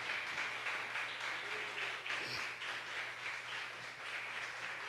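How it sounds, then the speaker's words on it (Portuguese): Church congregation applauding during a sermon, a steady wash of many hands clapping at moderate level throughout, with a low constant hum underneath. "aplauda a Jesus"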